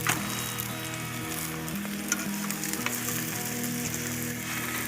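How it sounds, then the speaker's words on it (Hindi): Aloo paratha frying in ghee on a griddle, a steady close sizzle with soft crackles that carries on unbroken for a few seconds with no talking. "इसके ऊपर आप घी लगाएंगे तो पराठे जो है ना क्रिस्पी बनते हैं।"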